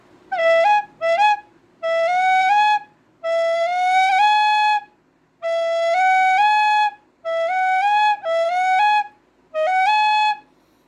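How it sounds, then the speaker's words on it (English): A solo tin whistle plays a series of short phrases, each note sliding up in a quick double slide ornament, with brief silences between. "The double slide or the double slur sounds like this."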